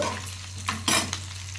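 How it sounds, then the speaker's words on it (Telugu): Green chilies fry in oil in a pan while pulihora is being made, giving a steady sizzle under a low constant hum, with a couple of brief louder stirring scrapes near the middle. "ఇవన్నీ ఏగుతున్నాయి కదా రెండు పచ్చిమిర్చి వేసానండి"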